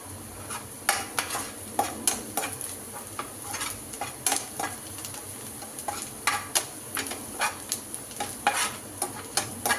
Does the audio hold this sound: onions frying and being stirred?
yes